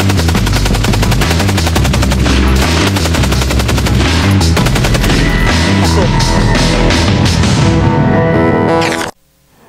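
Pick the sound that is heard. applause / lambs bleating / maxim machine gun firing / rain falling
maxim machine gun firing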